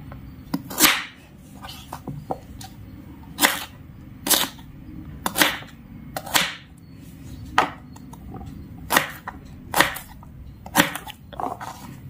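Knife chopping radish into small pieces on a board, a series of sharp distinct chops at an irregular, unhurried pace, close and fairly loud against a quiet background.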